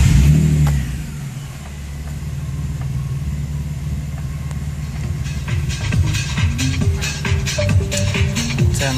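A warmed-up Nissan 350Z fitted with a true dual exhaust idles, then revs repeatedly in sharp, loud bursts, its engine close and rasping with no speech over it.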